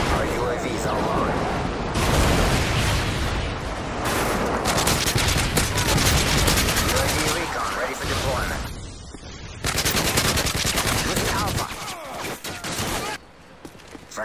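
In a Call of Duty multiplayer match on Seatown, dense machine-gun fire and rolling airstrike explosions pound almost continuously, with brief lulls. Voices can be heard over the combat.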